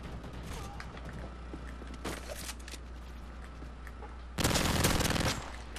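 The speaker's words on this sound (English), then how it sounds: "PP90 with rapid fire extended mag." In Modern Warfare 3, a PP90 submachine gun with rapid fire and an extended magazine lets off a loud burst of fast shots, with fainter gunfire and game sounds before it.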